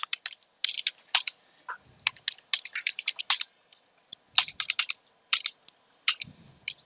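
Quick bursts of close computer keyboard typing as a password is entered on an Ubuntu machine, clustered key clicks separated by short pauses, crisp and alone with no talk.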